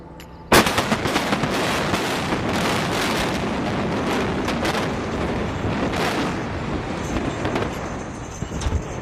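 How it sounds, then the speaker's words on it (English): Controlled explosive demolition of a building, heard as a sudden loud blast followed by a long, sustained roaring rumble of collapse with scattered crackling bursts, continuing steadily for several seconds. "a building less than half its height being destroyed by explosives"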